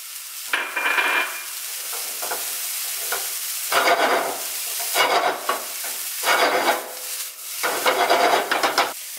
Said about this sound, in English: now we're gonna add the rest of the butter